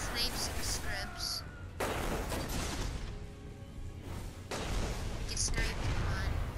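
Sniper rifle shots and loud blasts ring out in a Destiny Iron Banner multiplayer match, sharp booming cracks over dense constant game noise.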